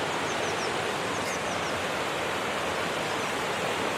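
Ashgill Force waterfall roars steadily and close at hand, a dense, unbroken rush of falling water that fills the whole scene with no voices over it.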